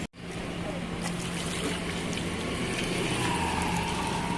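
Water splashes and runs steadily as a Honda Shine motorcycle piston is washed clean after a soap scrub, a close, continuous wash of noise lasting several seconds with no talking.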